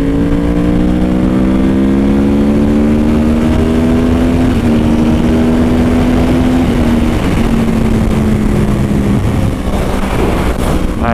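A Honda Ruckus scooter engine drones loud and close, its steady buzzing pitch sliding and stepping as it shifts down through the gears, with no voices over it.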